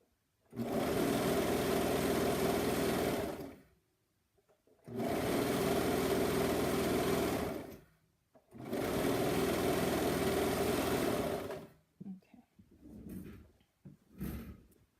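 A sewing machine stitches a pyjama neckband and placket in three long, even whirring runs of about three seconds each, close up, then stops for brief handling noises.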